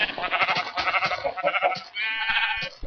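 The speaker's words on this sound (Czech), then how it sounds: "Tady vidím ovci." Sheep in the video game Minecraft bleat repeatedly, several wavering, nasal cries following one another closely at moderate loudness, with no voices over them.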